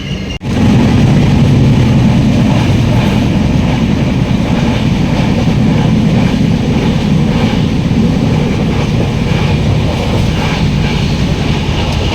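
A crowded general-class passenger train bound for Mumbai runs steadily, with a loud, continuous rumble and rattling wheel clatter filling the whole span after a brief quieter opening moment.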